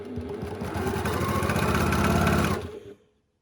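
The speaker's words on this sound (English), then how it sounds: "putting them on top of each other and putting a 1/4 inch seam down the side of all of these 4" A sewing machine stitches a quarter-inch seam through stacked quilting fabric, running in a fast, steady mechanical whir close by for under three seconds before stopping abruptly, with no talking.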